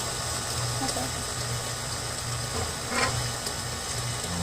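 Stand mixer churning lemon bundt cake batter, a steady low motor whir with a faint wet sloshing texture, even and continuous at moderate distance.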